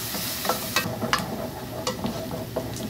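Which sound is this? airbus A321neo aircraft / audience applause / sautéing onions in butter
sautéing onions in butter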